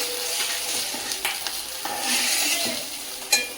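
Snakehead fish heads fry in oil with a close, steady sizzle. Stirring scrapes and a sharp clink from a utensil on the pan cut through it, and nobody speaks.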